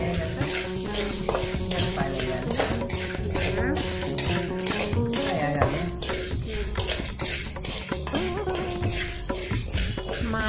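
Coriander seeds roasting in a pan while being stirred, a steady dry sizzle with constant scraping and rattling taps of the spoon, close and busy throughout.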